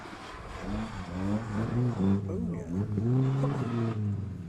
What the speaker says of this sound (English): Good scrap going on there between the BMW Compact and the Impreza.